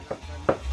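Two sharp knife chops on a wooden chopping board while cooking for a Tày wedding feast in northwest Vietnam, separated by a short pause, close and fairly soft over a low background hum.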